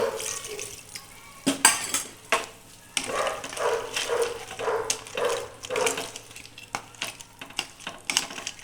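A spoon scrapes and clinks against a metal pot as a watery crab curry mixture is stirred, in irregular sloshing strokes with brief pauses.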